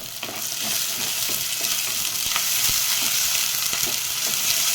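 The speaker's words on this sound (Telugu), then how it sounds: "పసర వాసన పోయిద్ది, మసాలా వేగిద్ది" Ginger garlic paste, chopped green chillies and masala frying in a clay pot for chicken curry, a steady close sizzle with occasional stirring scrapes and taps, no talk.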